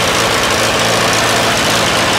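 Farmall A wide-front tractor engine running steadily at idle, a loud, close, continuous rumble with a rough low throb and no throttle linkage attached.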